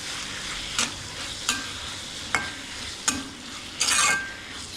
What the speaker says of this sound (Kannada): ಸೊ ಇವಾಗ ಒಂದು ಸ್ವಲ್ಪ ಅರಿಶಿನ ಹಾಕೋಣ. ಹಾಕಿ ಚೆನ್ನಾಗಿ ಫ್ರೈ ಮಾಡೋಣ.